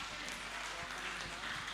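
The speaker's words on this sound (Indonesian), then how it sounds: "Tepuk tangan untuk Regu C." An audience at a national religious quiz competition gives a round of applause for a competing team, with a dense, fairly quiet wash of clapping heard from a distance in a large hall.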